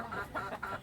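A gamecock, a fighting rooster, gives three short close clucks in quick succession, fairly quiet, with no talking.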